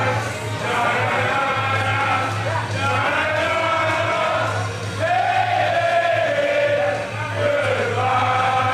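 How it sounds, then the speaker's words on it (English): Crowd at a wrestling show in Saskatoon singing a chant for the wrestler El Asesino, a sustained sung roar from many voices filling the arena, with a commentator talking over it. "We got a little song chant going for El Asesino from the crowd on hand in Saskatoon tonight"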